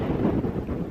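Strong wind buffeting on a mountaintop in Acadia National Park, a dense roaring rumble pressing on the microphone for just under a second.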